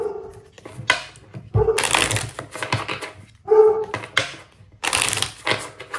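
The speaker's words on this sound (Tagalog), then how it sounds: "Ano ba yung aso? Aso ng kapitbahay." A neighbor's dog barks in a few short bursts at a distance, mixed with clattering and rustling noises in a home setting; no speech.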